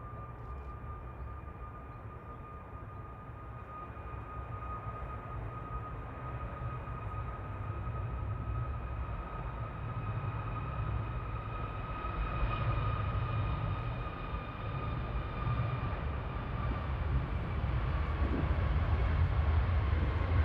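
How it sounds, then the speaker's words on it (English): A Ryanair Boeing 737 MAX 8 jet roars steadily as it departs Manchester Airport, a broad rumble with sustained whining engine tones that slowly builds in loudness over about twenty seconds, heard from outdoors at a distance. "Departing now, Ryanair to Krakow, flight 2141"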